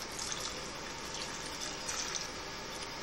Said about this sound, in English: Go get some more water and pour in here real quick while I'm doing this